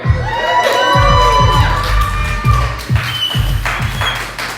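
A loud audience whoops and cheers with rising shouts, over scattered claps and thumps, close and lively.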